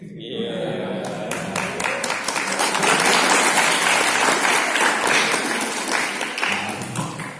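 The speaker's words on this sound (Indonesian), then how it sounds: "Jangan tepuk tangan dulu." Hearty audience applause at a university cyber security seminar, a dense wash of clapping that builds to a peak in the middle and then tapers off slightly, with faint voices beneath.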